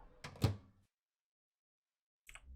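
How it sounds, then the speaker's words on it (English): A refrigerator ice machine door opens in the Tex Murphy adventure game Tesla Effect, giving a brief close thunk with a short rattle, then silence, and a faint second knock at the end. "No, that just opens the door."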